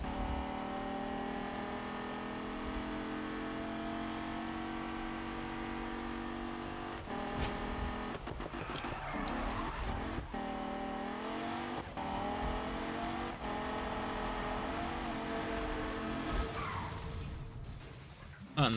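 Car engine in the Need for Speed racing game revving hard and continuously at high pitch, with gear-shift dips and brief tire squeals along the way, loud and steady throughout.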